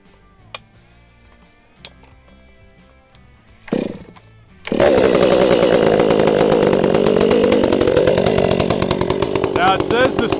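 A chainsaw fitted with an Egan straight-shot muffler: a couple of pull-cord clicks and a short sputter, then the engine catches and runs loud and raspy at a steady idle, close by.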